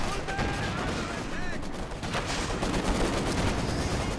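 A Maxim machine gun fires in the Company of Heroes 2 strategy game as a steady rattle of bursts under constant battlefield noise, moderately close and continuous throughout.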